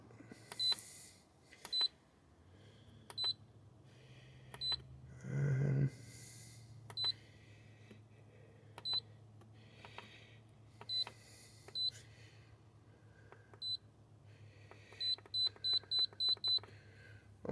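Kitchen timer beeping in short high electronic bleeps, scattered singly and in quick runs over about eighteen seconds, while a smoker is set for three hours; a low steady hum and a brief louder rustle sit underneath.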